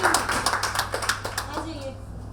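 A small group at a workplace wellness program claps in a short burst, the individual hand claps distinct and close, thinning out after about two seconds, with voices murmuring underneath.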